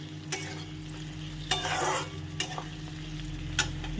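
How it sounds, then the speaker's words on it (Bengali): Katla fish curry with gondhoraj lemon zest is stirred gently in a pan, a light sizzle running underneath while a few sharp clinks and scraping strokes of the spoon against the pan stand out. "তো এই জেস্টটা অল্প একটু এর মধ্যে দিয়ে দিচ্ছি, দিয়ে হালকা হাতে নেড়ে নাও।"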